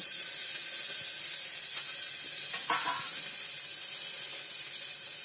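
Garlic, tomato and two chilies fry in a pan, giving a continuous soft sizzle and hiss at moderate level, with a slightly brighter crackle midway.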